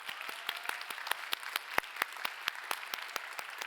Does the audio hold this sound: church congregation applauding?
yes